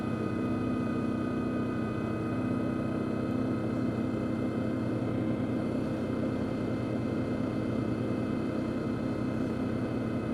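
An Arctic Cat Diesel 700 side-by-side runs at full throttle on a trail. Its engine gives a steady, unbroken droning hum at a moderate level the whole way through.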